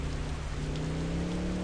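Steady, even rain hisses in an Indian GTA-style driving video game, with a faint low hum beneath and no voices.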